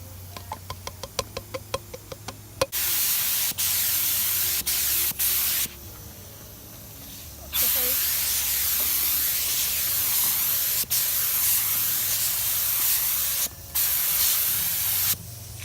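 A spray gun lays down a first coat of metal flake paint in long, steady hissing bursts, cut by short pauses and preceded by a few quick knocks, close and loud with no talking.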